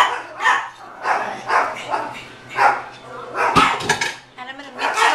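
Dogs bark repeatedly in a home kitchen, loud and close, in uneven bursts mixed with clattering dishes and utensils while a pot pie filling is being prepared.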